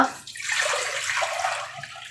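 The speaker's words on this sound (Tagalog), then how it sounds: "So, isali natin yung tubig dito." Water poured from a container into a pot to make gulaman jelly for a buko pandan salad, a steady close splashing rush that settles into a softer trickle, with no talk.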